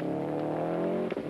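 A Subaru rally car on a special stage of the 1995 Catalonia Rally accelerates hard, its engine a loud, sustained rising drone with a brief break near the end.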